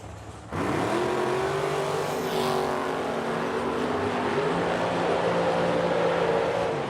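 Drag racing cars launch side by side down a strip at Edmonton's Oil City Classic, one of them a Duster, with loud sustained engine roar rising in pitch as they accelerate away, steady and dense throughout.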